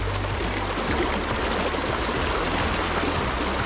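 Steady rushing and gurgling of river water flowing around an angler wading midstream while fly fishing for trout near a bridge, close and continuous with no voices.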